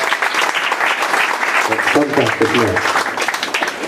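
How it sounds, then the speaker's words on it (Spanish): An audience claps together in a burst of applause at a community gathering, loud and sustained, with a voice speaking over the clapping. "Hay un aplauso a Jesús."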